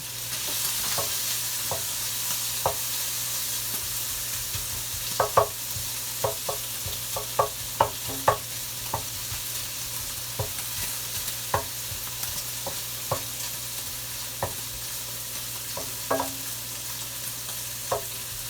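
Bacon frying gently at low heat, stirred with a wooden spoon: a steady soft sizzle with scattered knocks and scrapes of the spoon against the pan, close and unhurried with no talk.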